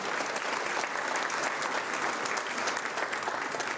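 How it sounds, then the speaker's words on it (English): Audience at a school's state-of-the-school presentation clapping in a dense, even round of applause, fairly soft and distant, continuing steadily throughout with no voices standing out. "Big round of applause for them."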